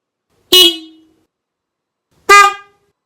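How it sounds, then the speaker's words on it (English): Two short, bright honks from a Denali SoundBomb Mini horn on an Indian Scout Bobber motorcycle sound a couple of seconds apart, each loud and clipped, with silence around them. "I think it's a nicer sounding horn"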